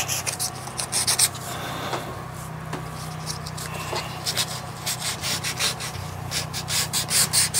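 Wood is sanded by hand with sandpaper folded into thirds, giving repeated close scratchy rubbing strokes in an irregular rhythm while a workshop machine hums steadily underneath.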